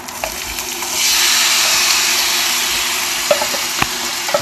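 Mango pieces hit hot oil in a pan for pickle on a lowered gas flame, bursting into a loud, steady broadband sizzle after a second of quieter bubbling, with a few sharp crackles and stirring clicks near the end.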